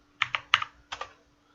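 A login password is typed on a computer keyboard: a few quick, close keystrokes in a short burst, then a pause before two more taps.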